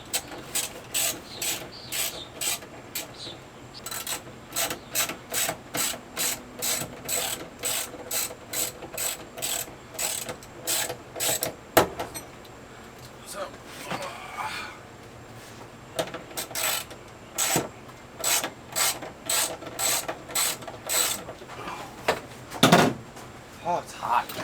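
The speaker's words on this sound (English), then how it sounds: "But time to take out the back seats." Rapid repeated ratcheting clicks in bursts come from tools removing the back seats of a car being stripped for a K-swap, with occasional clunks and a louder bang near the end.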